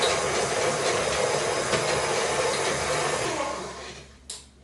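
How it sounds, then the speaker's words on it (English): An electric hand mixer beats mashed bananas with sugar for breakfast muffins, a steady close whirring hum that runs unbroken before cutting off near the end with a brief clunk. "Onto the mixer. We'll just give this a little mix just to break up the bananas."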